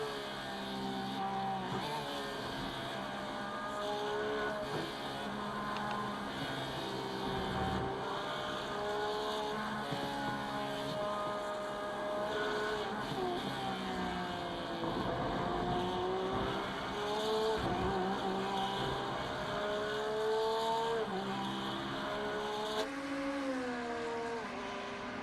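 Porsche GT3 race car engine in an iRacing simulation at Circuit of the Americas, a sustained high-revving whine with pitch rising and falling through gear changes and braking, steady and alone.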